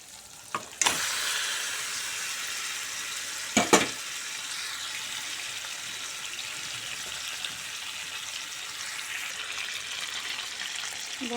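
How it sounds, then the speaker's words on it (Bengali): Chicken goes into spiced oil for a country-style Bengali chicken curry. It fries with a continuous close sizzle, and two sharp clattering bursts come early on as the pieces are stirred in. "আমি এবার চিকেনটা দিয়ে দিব।"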